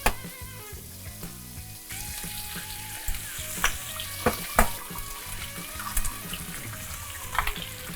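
Sunny-side-up eggs fry in a pan for a breakfast sandwich, giving a continuous crackling sizzle with sharp pops and spits scattered throughout, close and fairly quiet, with no one talking.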